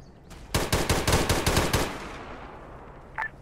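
Rapid burst of about eight loud automatic gunshots in the Arma 3 video game, close and evenly spaced, followed by a lingering echo tail and a faint brief click near the end.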